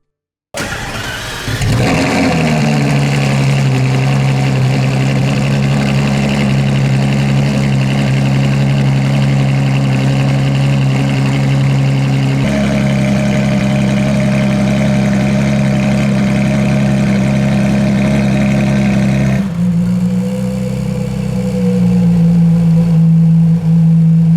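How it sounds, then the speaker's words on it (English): A 2018 Ferrari LaFerrari Aperta engine starts with a sharp bark and settles into a loud, deep, steady exhaust idle, its rumble shifting pitch slightly partway through, with no voices. "let's hear the exhaust"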